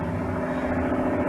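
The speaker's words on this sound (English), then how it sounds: "You hear the traffic noise." Street traffic drones through open windows as a steady, fairly loud low rumble of engines, continuous and unbroken.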